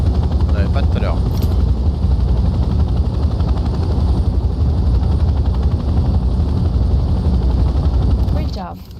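A helicopter in the Hell Let Loose: Vietnam video game drones loudly and continuously with a heavy rotor rumble during a flight tutorial, then fades near the end. Brief vocal sounds mix in.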